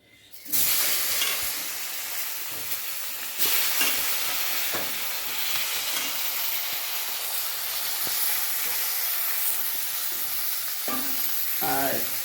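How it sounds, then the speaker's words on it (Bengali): Eggplant pieces coated in salt and turmeric fry in hot oil, a steady loud sizzle and hiss running throughout with occasional stirring clatter and bursts of spatter. "এই যে এবার নুন হলুদ মেখে নিয়েছি, এর মধ্যে বেগুনগুলো ভাজছি।"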